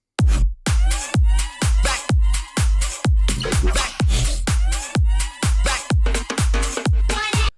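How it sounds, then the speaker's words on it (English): A rapid run of synth laser zaps, each a bright descending sweep over a heavy low thump, firing in a steady driving rhythm, loud and up front with no pauses. "Some lasers."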